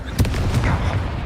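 A Confringo blasting spell in Hogwarts Legacy bursts in a mining cave with a loud, close, booming impact, followed by rumbling debris over about a second.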